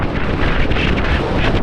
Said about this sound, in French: voilà il y a du vent